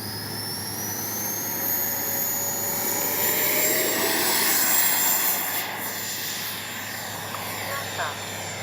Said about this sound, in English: Let's go ahead and we'll take off from down there just because we can.